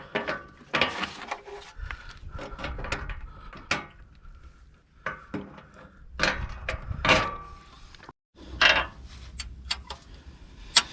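Bolts and 15 mm nuts being snugged down on a small diesel log splitter's engine mount, giving irregular metallic ratcheting clicks and clanks at close range, with brief pauses between bursts and no talking.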